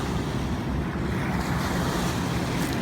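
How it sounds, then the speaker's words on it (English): Waves from passing clipper boats wash steadily onto the muddy River Thames foreshore in London, a continuous close rush of surf with wind buffeting the microphone, no voices. "Oh, here comes the waves from the clippers."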